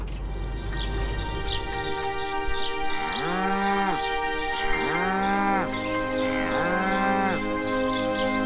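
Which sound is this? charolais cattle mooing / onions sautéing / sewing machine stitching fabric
charolais cattle mooing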